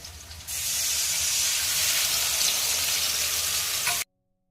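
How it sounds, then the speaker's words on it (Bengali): Spiced water hits a hot tempering of green chillies and nigella seeds in a pan for a brinjal and hilsa curry, bursting into a loud, steady hiss of sizzle and steam that holds for about four seconds, then cuts off abruptly. "এবার আমি দেবো এই মশলা দেওয়া জলটা।"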